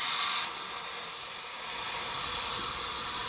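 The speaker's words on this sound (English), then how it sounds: "quite a lot of steam gets by it even when it's stopped" Steam hisses past the valve of a Donkin steam steering engine while it stands stopped, a steady high-pitched leak that is louder at first, dips briefly, then holds level.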